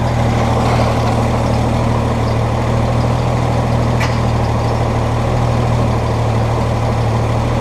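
A 1956 GMC truck engine idles steadily nearby, a constant low rumble with no breaks and a brief faint click partway through.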